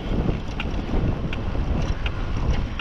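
Steady headwind roaring across the microphone during an electric bike ride on a Bafang BBS02 mid-drive motor, a loud continuous low rumble with a few faint ticks.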